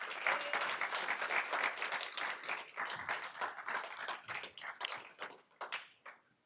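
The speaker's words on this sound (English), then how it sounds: "further round of applause" An audience claps at a university student design showcase, a dense burst of applause that thins out and trails off into scattered final claps.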